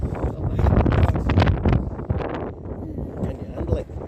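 Strong wind buffets the microphone on a seafront at night in Bispham, a loud continuous roar that gusts and rumbles throughout.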